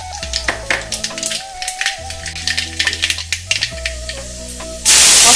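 Mustard seeds crackle and sizzle in hot oil in a pan while bread upma is being made, with a steady run of sharp pops and spattering, close and fairly loud, over faint background music, ending in a burst of louder hiss.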